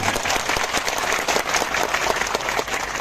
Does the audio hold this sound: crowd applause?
yes